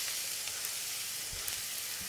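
Chopped onions sizzling in hot oil in a pot, a steady close hiss of frying with faint scraping knocks now and then.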